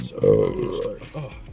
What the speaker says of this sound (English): I can't tell if that was your burp or burrito